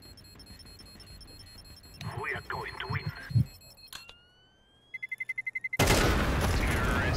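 Gunfire in a video game: a quick burst of rapid, evenly spaced shots, then a loud blast of noise, after a stretch of game sounds and a few thuds.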